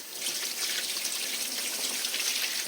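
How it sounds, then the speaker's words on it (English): Cooked bean sprouts are tipped into a sink or bowl of cold water, producing a steady, close splashing and trickling wash of water throughout. "and put it in cold water."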